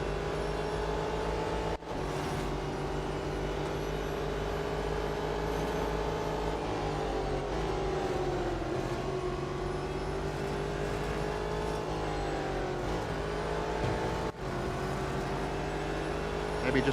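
BMW race car in Real Racing 3 accelerating, a steady loud engine drone with gradually shifting pitch throughout, two brief dropouts, no talk.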